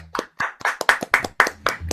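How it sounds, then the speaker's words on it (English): During a Thursday night live-streamed music show, a few people clap in a sparse, uneven rhythm of about eight close, sharp claps, each separated by short silences, welcoming a performer. "Let's give him a nice round of applause."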